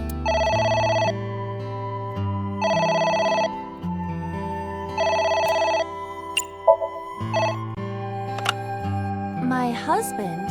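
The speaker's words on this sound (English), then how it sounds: "Oh? It's the phone. Maybe try picking it up?" In the video game AI: The Somnium Files, a telephone rings in three clear electronic bursts separated by short pauses, followed by assorted game sound effects and tones.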